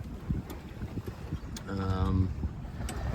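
A sailboat beats slowly northeast in a light seven-knot wind, with steady wind and water rush, scattered knocks from the bouncy ride, and a brief creaking, rattling stretch near the end, all fairly quiet and close.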